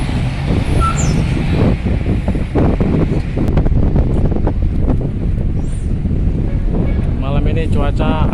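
Strong night wind of about 30 knots at Bakauheni ferry port, a steady loud rushing buffeting the microphone throughout, with vehicle rumble and talk underneath.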